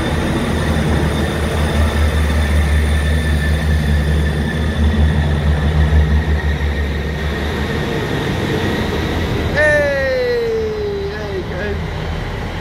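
A British Rail Class 158 diesel unit passing near, a loud sustained rumble with rhythmic wheel beats, ending in a falling whine as it pulls away; a voice talks over it.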